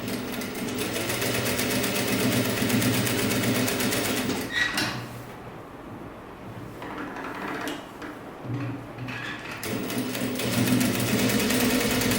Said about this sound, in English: And then you go on the sewing machine and sew here, back stitch